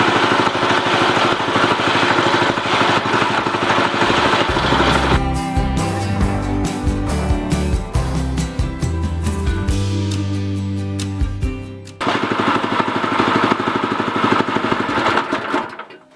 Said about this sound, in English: Engine runs.